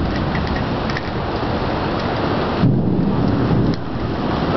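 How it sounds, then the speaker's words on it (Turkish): A continuous loud downpour in a Miami thunderstorm, with deep rumbles of thunder rolling under the rain and one stronger swell partway through, heard alone without voices. "Gök gürültülerini duyuyorsunuzdur."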